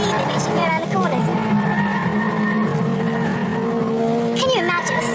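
A four-wheel-drive Evo saloon car corners fast on a track, its engine droning loud and close while the tyres squeal and skid through the bend. Someone talks over it.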